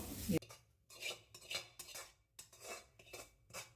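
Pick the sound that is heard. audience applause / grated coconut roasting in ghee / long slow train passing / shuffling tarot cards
grated coconut roasting in ghee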